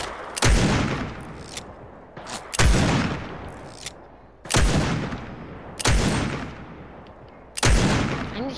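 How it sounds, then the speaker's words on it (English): Five loud, sharp gunshot bursts in Fortnite come at irregular intervals, each cracking hard and decaying into a long rumbling tail. No voices are heard. "I'm just randomly shooting."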